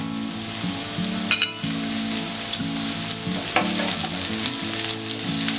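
Carrots and beans sauté in a pan for chicken Hakka noodles, a steady sizzle with a low hum underneath and a few sharp scrapes and clinks as they are stirred; no voices.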